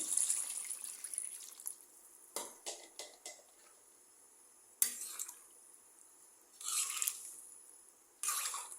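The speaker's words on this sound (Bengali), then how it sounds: "এখন ঝোল দিয়ে দিতেছি" Broth poured into a pot of beef curry with jackfruit seeds, heard as a few short liquid splashing bursts separated by quiet gaps, fairly faint and close.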